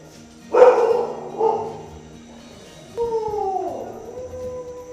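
Dogs howl nearby in two or three drawn-out, wavering cries, with a short pause between them, and no talking.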